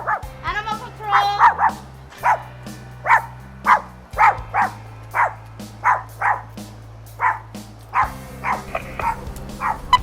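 A Chihuahua yaps in a quick, steady series of sharp barks, close and loud, during an animal control call, with a low engine-like hum droning underneath.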